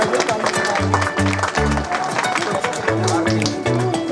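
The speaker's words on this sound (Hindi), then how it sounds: "करो भाई, ताली बजाओ।" Audience at an outdoor community program in Dhanai clapping together in a dense, lively burst of applause, close and continuous across several seconds, with voices mixed in.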